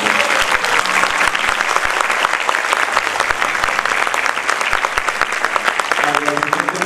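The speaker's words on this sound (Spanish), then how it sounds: "démosles un fuerte aplauso" Loud, close applause greeting an Argentine folk dance group, the Lazos de Amistad troupe, at a folk festival in Samacá, with dense rapid clapping sustained throughout and a few voices faintly mixed in.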